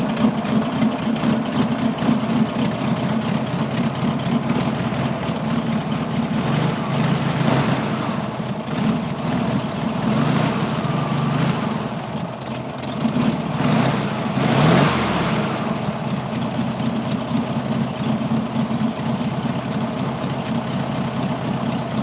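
A carbureted Volkswagen engine idling after a fuel line repair, a steady, close mechanical rumble with a light ticking rattle that runs unbroken for over twenty seconds.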